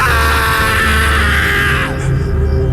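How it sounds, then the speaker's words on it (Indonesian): A possessed man in a radio drama screams loudly and continuously over a dense, reverberant bed of sound and music, his strained voice cutting off abruptly near the end. "Rio berteriak-teriak dengan kencang."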